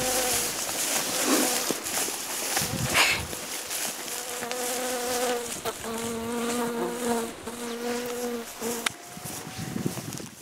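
Mosquitoes on a hiking trail whine and buzz close to the microphone in a steady, wavering drone that carries on alone for several seconds.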